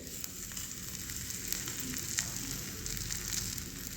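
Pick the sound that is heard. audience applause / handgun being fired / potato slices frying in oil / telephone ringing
potato slices frying in oil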